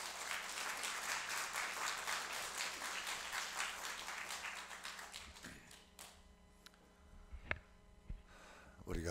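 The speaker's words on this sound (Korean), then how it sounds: "이제 목사님 나오시고 우리 박수로 안아주시기 바랍니다." Congregation applause in a church service welcoming a pastor, a missionary to Russia, to the pulpit; steady crowd clapping for several seconds that thins out and fades, leaving a few scattered taps and a quiet room.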